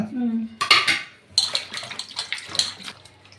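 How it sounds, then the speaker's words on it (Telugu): Garlic cloves and green chilies being washed in water in a home kitchen, with a short voice at the start, then clattering splashes and dish clinks in irregular bursts, close and moderately loud. "ఒక నాలుగైదు ఎల్లిపాయలు పచ్చిమిరపకాయలు కడుగుదాం"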